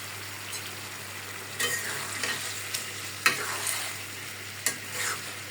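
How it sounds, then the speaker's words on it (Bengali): Chopped onion goes into chicken frying in a pan, sizzling steadily while a spoon scrapes and knocks against the pan in several sharp bursts, near and moderate in level. "পেঁয়াজ কুচি দিয়ে দিই।"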